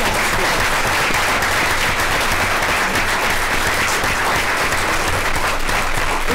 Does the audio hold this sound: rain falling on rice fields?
no